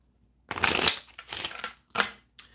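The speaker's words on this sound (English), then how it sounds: "One more shuffle on that." Playing cards riffle and snap in three quick bursts up close, a crisp papery flutter with short pauses between shuffles and no talking.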